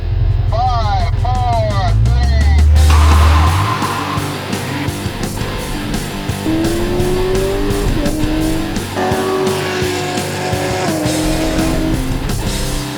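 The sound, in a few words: Ford Fiesta and C7 Corvette racing on track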